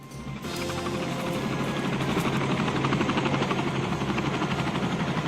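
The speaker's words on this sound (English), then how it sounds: "How do you not recognize the sound of an approaching helicopter?" A helicopter's rotor thumps rapidly and steadily, loud and close, its whirring beat building after a brief quiet start and holding strong throughout.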